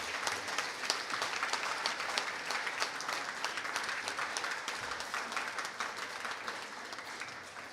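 A school assembly audience applauds merit award recipients with dense, sustained clapping that holds steady throughout at moderate distance, fading slightly at the end.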